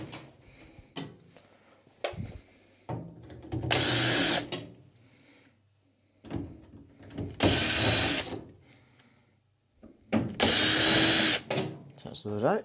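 A power drill whirs in bursts as it backs screws out of the stainless steel drum inside an incubator cabinet, with someone talking between the runs.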